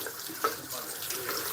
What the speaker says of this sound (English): There's hot water coming out